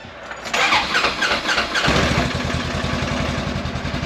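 An off-road vehicle engine cranks briefly, then catches and settles into a steady, close idle, recorded on a trail ride with no talking over it.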